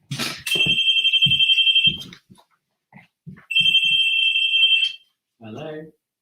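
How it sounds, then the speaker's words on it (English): A door buzzer sounds in two long, loud, steady electronic tones with a short gap between them, while a voice speaks in brief bursts around them. "And that's my buzzer."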